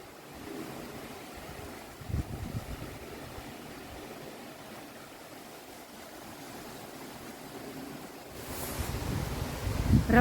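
Steady rushing water roars broadly throughout from the Fluxfallet waterfall in Sweden, a constant wash of falling water with wind buffeting the microphone, swelling louder near the end.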